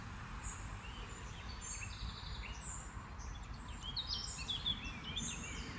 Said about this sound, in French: ils aiment les chants des oiseaux